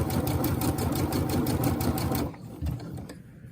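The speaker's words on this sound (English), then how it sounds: "And sew right off the edge." Sewing machine stitching fabric right beside zipper teeth, a fast steady run of rhythmic needle clatter for about two seconds before it stops, leaving quieter handling sounds.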